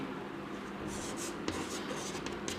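Marker or chalk strokes on a classroom board during a class 10 trigonometry lesson, a few short scratchy strokes close by against steady room background.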